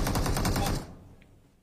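Rapid automatic gunfire in a PUBG-style battle royale shooter, a loud burst of closely spaced shots lasting under a second before cutting off to near silence.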